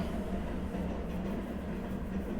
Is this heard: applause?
no